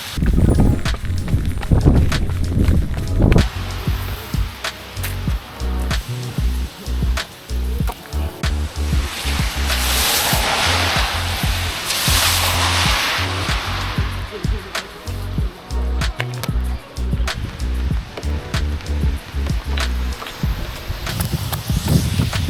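A river running high and fast after rain gives a continuous broadband rush outdoors. Wind and a few scattered nearby knocks and steps sound over it.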